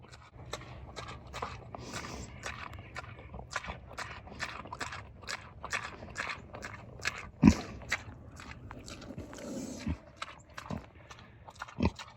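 An animal chews and crunches its food in a rapid, steady rhythm of close, crisp bites, with an occasional louder clack.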